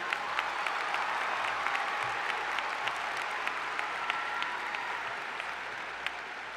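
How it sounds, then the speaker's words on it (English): Sustained audience applause fills a large hall at the 2016 FIRST Championship welcome ceremony, a dense steady clatter of many hands with occasional sharper claps standing out, heard alone without talk. "Give yourselves a round of applause because this is an amazing contest this year."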